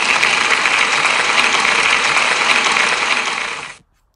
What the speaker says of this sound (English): So can we give him a big round of applause